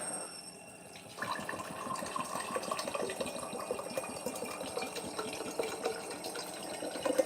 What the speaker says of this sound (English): in the flask on the left, let's put this Meyer alkaline water